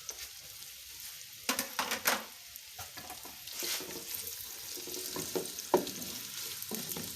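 Onions hit half a cup of hot ghee in a pan and give off a soft, quiet sizzle, with scattered stirring clatters and small bursts of frying.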